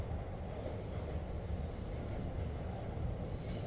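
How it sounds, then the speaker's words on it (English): Train rolling by in Shimbashi, Tokyo, a low continuous rumble with high wheel squeals rising and fading, fairly faint and distant, heard alone. "Whoa, you hear that? Train is rolling by."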